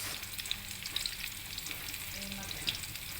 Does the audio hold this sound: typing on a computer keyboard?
no